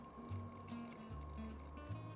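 Water poured from scratch into a homemade lemon pudding cake batter, a steady close trickle and splash lasting a couple of seconds over a low constant hum.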